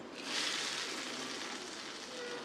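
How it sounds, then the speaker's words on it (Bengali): Onions and chillies fry in oil for tempering a cucumber dal, making a soft, steady sizzle that stays quiet and even from start to finish. "ফোড়ন দেওয়ার জন্য আমি পেঁয়াজ ভেজে নিচ্ছি"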